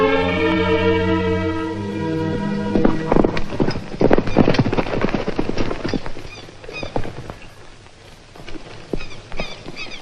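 A horse's hooves clip-clop in an irregular rhythm close by, alongside whinnying and some rumbling background noise, with no one talking.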